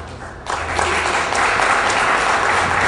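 Applause breaks out from an audience in an event hall at a gathering of the Ivorian diaspora, starting suddenly after a quiet moment and continuing as a steady, fairly loud wash of clapping.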